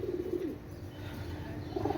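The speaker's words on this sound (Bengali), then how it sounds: "কবুতর, পাকিস্তানি" Pakistani Shaharanpuri pigeons cooing close by, soft low throaty coos in a few short pulses at the start and end with a steady murmur between, no talk.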